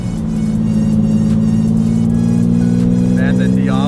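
Lamborghini Diablo V12 engine idling and revving steadily, a loud, continuous low rumble with a bright whine rising near the end.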